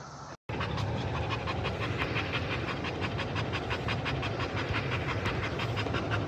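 Dogs, including a Husky, pant rapidly and heavily up close while playing, a fast rhythmic huffing that continues without a break after a brief silence at the start.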